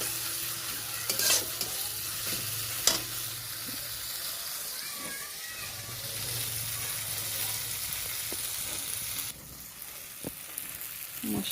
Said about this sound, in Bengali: মশলাটা একটু কষিয়ে নিই, ভালো করে কষাতে হবে, পেঁয়াজগুলো যেন গলে যায়।